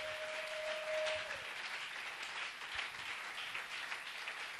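A church congregation applauds together, a steady wash of clapping hands that holds evenly for several seconds in a large room, with no voices over it.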